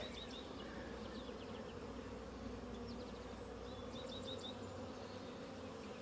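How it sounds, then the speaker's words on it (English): A dense, steady drone of many honey bees buzzing close by around a hive being split, with faint high chirps of birds in the background. "so we've got tons of bees, tons of honey"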